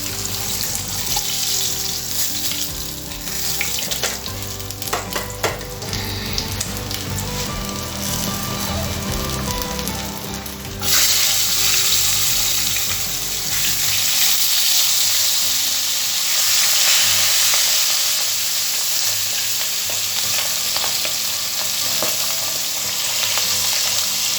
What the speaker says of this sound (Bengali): মাছগুলো খুব কাটছে, চাপা দিয়ে দিলাম।